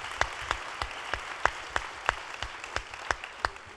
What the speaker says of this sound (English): you may applaud that.